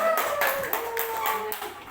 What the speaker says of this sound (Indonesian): Berikan tepuk tangan yang kedua